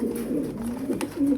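Pigeons cooing up close, Lahori-type fancy pigeons in a breeder's loft, giving low throaty rolling coos that swell and repeat over the short span, loud and near with no talking.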